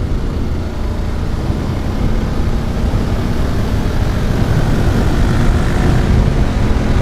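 BMW F850GS Adventure motorcycles accelerating hard in an off-road race, a steady, loud engine roar sustained throughout with broadband wind-like rumble and no pauses.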